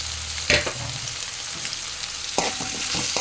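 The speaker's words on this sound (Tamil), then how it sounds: "இதையும் கொஞ்சம் அந்த எண்ணெயில் கொஞ்சம் கிண்டி கொஞ்சம் வேக விட்டுக்கிட்டு" Moringa drumstick pieces being stirred in hot oil in a Tamil home kitchen give a steady close sizzle and frying crackle, with scraping stir strokes and a sharper clatter near the start and again later.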